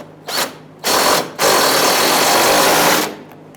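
Power tool tightening the fuel tank strap bolts on a 2000-2006 Toyota Tundra: two short whirring bursts, then a longer steady buzzing run of about a second and a half, close and loud.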